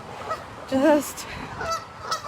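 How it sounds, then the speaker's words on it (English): Geese honking at a pond, a few loud close honks and one stronger call in the middle, with a voice speaking faintly alongside. "So, okay, here come the geese. Be careful of the geese."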